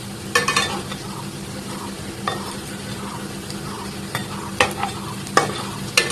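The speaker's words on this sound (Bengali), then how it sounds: "এখন গাইস এরকম নেড়ে চেড়ে উল্টো পাল্টো করে সবটি ভেজে নেব" A homemade sweet fries in a pan with a steady sizzle, while a utensil scrapes and stirs the pieces with irregular clicks and knocks.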